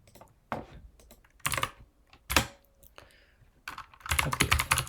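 Computer keyboard typing while code is being written, with irregular bursts of keystrokes and pauses, building to a dense, rapid flurry of clicks at the end; no one speaks.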